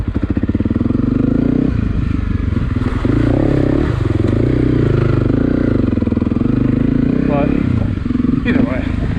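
A Honda CRF250 Rally motorcycle with a heavy rider drones loudly and close throughout, engine pitch rising and falling with clattering and wind noise, while a voice speaks over it.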